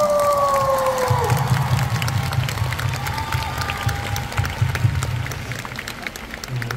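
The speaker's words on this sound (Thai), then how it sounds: "ขอเสียงปรบมือพี่หูเลยครับ" An audience at a live on-stage event applauds and cheers in a continuous, dense wash of clapping. Some higher whoops and faint voices rise over it.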